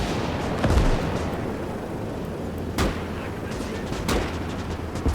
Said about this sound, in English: And they're still shooting.